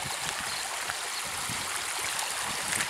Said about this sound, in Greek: Αυτό είναι το νερό που τρέχει